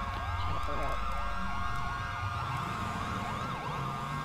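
Wailing video-game police siren sweeping up and down repeatedly, continuous and fairly loud over a low rumbling engine drone.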